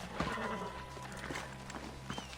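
Hooves clip-clop from a horse in the Red Dead Redemption video game, several uneven steps with faint snorting over a steady game backdrop, some quiet voices underneath.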